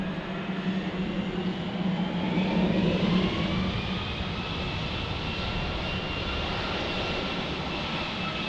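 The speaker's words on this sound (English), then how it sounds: "You guys can probably hear the 757 engine too." Steady, loud Boeing 757 jet engine roar with a broad rushing hum and faint rising whine, constant throughout with no talking.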